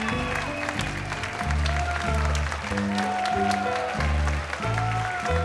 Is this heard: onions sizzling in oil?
no